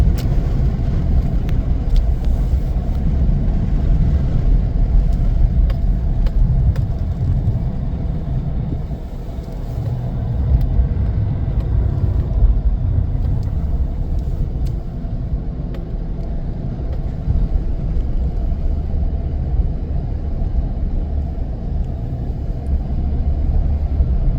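Gusts hammer a truck driving through a snowstorm near Michigan City, heard from inside the cab as a loud, continuous low rumble. The rumble swells and dips unevenly over road and engine noise, with no talk.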